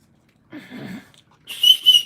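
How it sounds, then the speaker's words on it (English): A whistle blown in two loud, shrill, close blasts, following a short stretch of muffled rustling or mumbling. "Maybe blowing the whistle helps."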